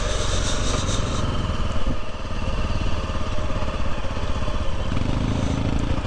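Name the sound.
motorcycles on off-road trail in Japan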